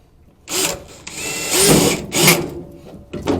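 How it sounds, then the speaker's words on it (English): A power drill drives a screw into the sheet-metal housing of an HVAC furnace, giving several short, close whirring bursts with metallic rattling between them. "we have our drill to ensure no leaks"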